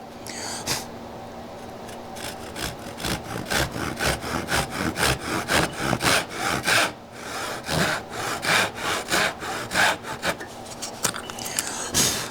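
Hand saw cutting wood for a tenon in a mortise and tenon joint, with steady rhythmic back-and-forth rasping strokes, close and fairly loud, continuing for many seconds with brief pauses.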